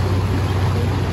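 A tour boat on a summer holiday trip gets underway, its engine giving a steady, loud low drone with a faint wash of water and no clear voices.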